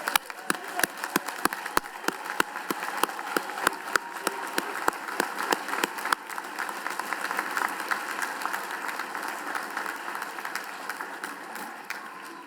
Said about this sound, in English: So how about a round of applause for all the graduates?